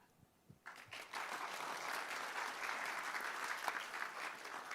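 A conference audience breaks into sustained applause after a few faint sounds, a dense, steady clapping that holds evenly until the end.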